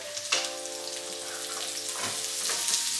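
Asparagus frying in a pan with caramel soy sauce, a strong continuous sizzle with crackling spatters, close and steady throughout.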